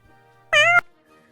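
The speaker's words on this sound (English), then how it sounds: "here's the one cat in my presentation for you cat people" A cat gives a single short, clear meow, close and fairly loud, over a quiet background.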